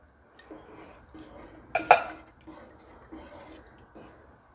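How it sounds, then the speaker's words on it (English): Spoon scraping and stirring canned tomatoes in a pot, soft rhythmic rubbing strokes with one sharper clink of metal against the pot near the middle. "Stirring it up in here."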